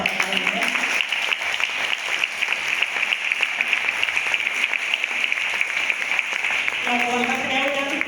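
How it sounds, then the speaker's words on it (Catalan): Sustained audience applause fills a charity concert against breast cancer, a steady dense wash of many hands clapping from start to finish, with a voice briefly audible at the beginning and again near the end. "si us plau, un altre aplaudiment"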